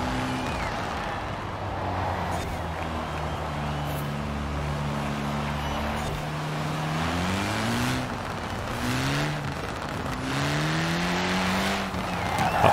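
A car driven in the video game Forza Horizon 4, a steady engine drone that rises and falls through gear changes and revs, continuous and close, with faint talking at times.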